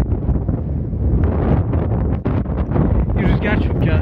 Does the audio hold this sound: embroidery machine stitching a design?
no